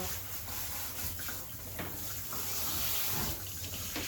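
Tap water runs steadily into a sink during a bath for a Sphynx cat, a continuous close splashing hiss with no voices.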